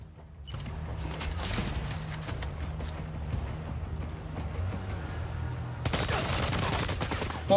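Rapid bursts of gunfire in Death Stranding 2 on PS5, dense crackling volleys running continuously at close range, briefly dipping before a sharper, louder burst near the end, with little talk.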